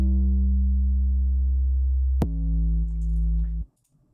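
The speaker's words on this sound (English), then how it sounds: "All right, so that is the 808." Deep, booming 808 bass notes sustain, with a second hit midway that shifts the pitch, then cut off abruptly into silence.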